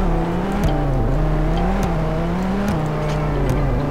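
Car engine in the Roblox video game, a steady droning hum that rises and dips slightly as the car is driven around the streets, close and continuous with no talk.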